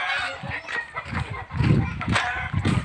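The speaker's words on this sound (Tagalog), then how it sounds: "Ay, manok." Chicken clucking and squawking close by in a wooded area, loud scattered calls mixed with rustling and flapping.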